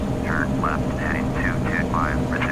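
Aircraft engine during takeoff in Flight Simulator X, on a flight from Yakutsk to Chulman. A steady, broad engine roar runs throughout, with a person talking over it.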